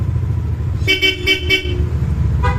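An aftermarket Bosch Europa horn on an Nmax V2 motorcycle honks in a quick run of short bursts, then gives one more brief toot, over a low idling engine rumble.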